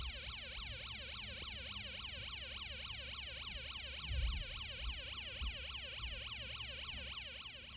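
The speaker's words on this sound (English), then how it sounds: "the U29 display changes, and the siren goes on and off" An electronic siren from a Snap Circuits Arcade kit wails in a rapid, regular rising-and-falling sweep, steady and fairly faint, with a few soft bumps and clicks underneath.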